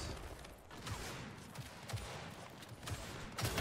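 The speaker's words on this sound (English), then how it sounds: "Shots." Rapid gunfire in a Gears 5 ranked match, with repeated sharp shots spread through a dense, steady wash of battle noise, moderately loud throughout.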